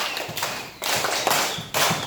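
A group claps hands in a rhythmic pattern at a one-day scout camp, several bursts of close, crisp claps falling in quick groups with soft gaps between them.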